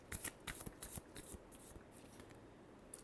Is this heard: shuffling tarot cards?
yes